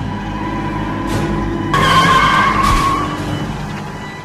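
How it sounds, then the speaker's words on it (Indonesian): A car in a film starts and drives off, loud engine and tire noise swelling midway with a brief squeal-like tone, then easing slightly as it pulls away, no speech. "Mobil pun berhasil dihidupkan, dan keduanya langsung pergi dari tempat itu."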